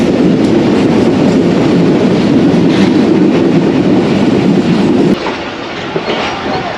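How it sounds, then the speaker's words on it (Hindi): Shah Latif Express 151 passenger train rolling past near Hyderabad, Sindh, a loud steady rumble with clattering wheels that drops off abruptly near the end as the last cars clear. "शाह लतीफ़ एक्सप्रेस 151 अब मिली है और मीरपुर ख़ास की तरफ नामज़द है"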